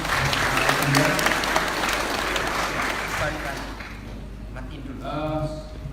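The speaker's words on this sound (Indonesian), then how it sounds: "Sekali lagi kita tepuk tangan untuk sesi pertama." An indoor audience applauds after the first session of a talk on holy marriage, moderate clapping that gradually thins and fades, with voices speaking over it toward the end.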